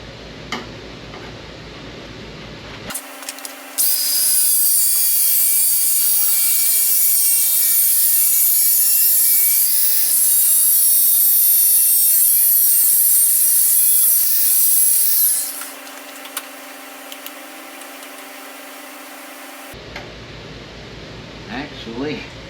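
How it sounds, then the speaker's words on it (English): A car quarter-panel repair patch trimmed with a power cutting tool, a loud continuous high-pitched grinding whine lasting about twelve seconds, with quieter shop noise before and after. "Let's see if I can trim this down to the patch that I need."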